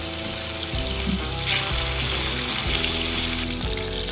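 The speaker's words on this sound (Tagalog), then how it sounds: "ipapan-fry po natin sa kaunting mantika para mapa-brown po natin yung outer layer ng ating chicken" Marinated chicken pieces pan-frying in a small amount of oil, a steady close sizzle with crackling and occasional stirring scrapes, heard alone without talk.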